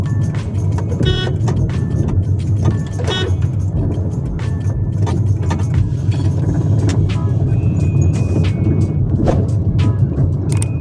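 A car creeps over a pothole-ridden road in second gear. A low engine drone runs underneath frequent knocks, rattles and jolts from the suspension and cabin.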